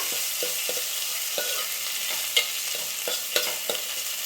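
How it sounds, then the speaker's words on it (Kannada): Curry leaves, green chilies and garlic fry in hot oil, giving a steady close sizzle broken by frequent sharp crackles and pops from start to finish, with no talking. "ಕರಿಬೇವು ಸೊಪ್ಪು, ಮೆಣಸಿನ್ಕಾಯಿ, ಬೆಳ್ಳುಳ್ಳಿ ಒಂದೇ ಸಮ ಹಾಕ್ಕೊಂಡು ಎಣ್ಣೆಯಲ್ಲಿ ಫ್ರೈ ಮಾಡ್ಕೊಂಬಿಡೋಣ"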